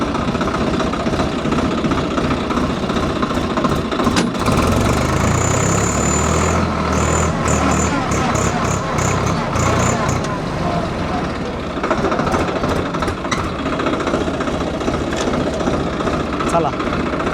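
A tractor engine runs with a steady low rumble and drone for the whole stretch, close and loud, with people talking over it.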